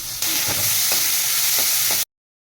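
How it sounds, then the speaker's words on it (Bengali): Eggplant pieces fry in a hot pan for a bittergourd dish with coconut milk, giving a loud, steady, close sizzle with a few faint stirring knocks before it cuts off abruptly. "বেগুনটাকে ভেজে নিচ্ছি, ভাজা হয়ে গেছে, আমি এবার তুলে নেব।"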